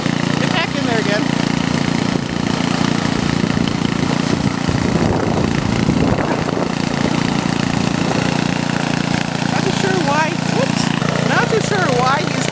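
A lawn mower engine drones steadily nearby throughout, heard from inside a vehicle during an April snowstorm with a constant low hum and faint background noise.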